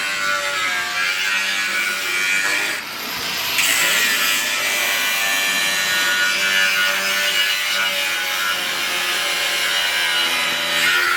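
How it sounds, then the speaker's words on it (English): A tool cuts a C-notch into a Chevy Blazer frame, producing a loud continuous grinding, rasping noise with a brief pause early on before resuming steadily. "he's cutting out for the C-notch right now on the Blazer frame"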